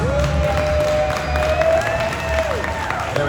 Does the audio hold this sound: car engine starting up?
no